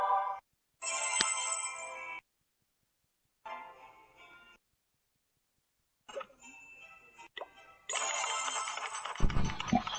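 A phone ringtone plays in loud bursts separated by short silences, a melodic electronic ring that repeats several times before a final longer stretch with some background noise.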